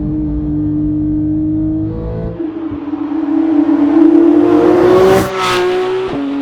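Porsche 991.2 GT3 flat-six revving hard under acceleration, a loud rising engine note that climbs through the gears with a brief shift dip near the end, heard from inside the car with no talking.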